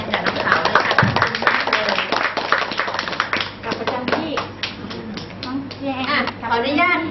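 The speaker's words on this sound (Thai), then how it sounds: "ขอเสียงปรบมือให้กับน้องแจงกับน้องสาวเลยค่ะ" An audience at a children's and family radio club gathering in Chonburi claps hands, the applause dense and sustained for several seconds with talking over it.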